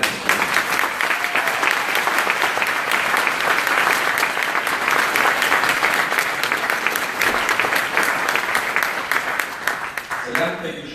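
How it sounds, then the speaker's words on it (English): Sustained audience applause at the 2017 VicSRC Recognition Awards, loud and steady for about ten seconds before tapering off at the end, with faint talk mixed in. "So can you give VicSRC a round of applause?"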